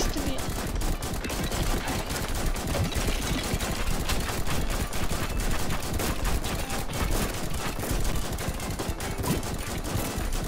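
Rapid, continuous gunfire from a gun in the Roblox game Giant Survival, dense and steady shots rattling for the whole stretch with no pauses.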